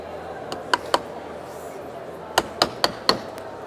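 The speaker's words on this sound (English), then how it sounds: "You'd use the smaller panel pins for the soffit and the larger nails with the colour-coded heads" Panel pins are hammered into aluminium soffit in short, sharp metallic taps: two quick strikes, a pause, then a cluster of four more, heard close over a quiet background.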